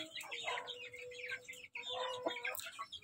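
A Shamo mother hen in a cage gives a few low, close clucks and throaty chirring calls in short bursts, fairly quiet.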